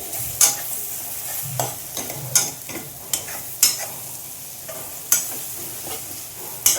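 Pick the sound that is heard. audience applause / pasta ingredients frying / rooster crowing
pasta ingredients frying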